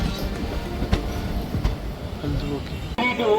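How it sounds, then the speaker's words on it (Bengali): The Teesta Torsa Express pulls into Azimganj Junction, its wheels rumbling and clacking over the rails in a continuous low roar, with a voice speaking briefly near the end. "আমাদের ট্রেন এখন আজিমগঞ্জ জংশনে ঢুকছে"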